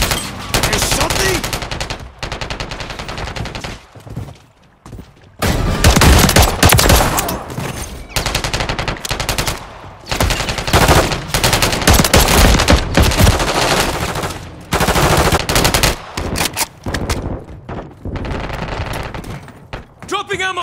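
Call of Duty gunfire, dense loud bursts of automatic weapon fire and shots in rapid volleys with brief gaps between, voices shouting over the battle.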